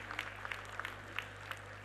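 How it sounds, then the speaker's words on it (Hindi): An audience at a gathering applauds faintly and a little distantly, with scattered separate claps over a steady low hum. "भरत भाई के लिए भी एक बार तालियां"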